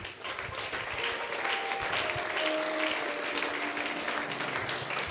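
Sustained audience applause at a Christian church conference fills the space, a dense, even wash of many hands clapping with no pauses.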